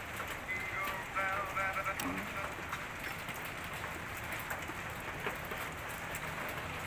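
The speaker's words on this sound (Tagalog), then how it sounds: "Raining ice." Ice pellets fall like rain during a cold spell in Baguio, a steady faint patter and hiss across the whole stretch, with a few brief sharper ticks and a voice murmuring briefly near the start.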